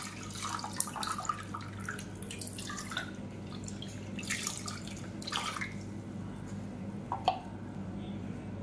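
Water splashes and trickles into a mixer jar while it is rinsed for a green gram kanji, with intermittent drips and sloshes in a quiet kitchen.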